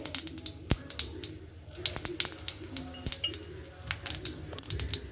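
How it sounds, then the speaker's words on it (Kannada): Spices for a South Indian tempering crackle in hot oil, with scattered sharp pops and snaps at an uneven rhythm over a quiet background and no voices. "ನೋಡಿ ಒಗ್ಗರಣೆ ಎಲ್ಲ ಚಟಪಟ ಅಂತ ಇದ್ದಾಗೆ"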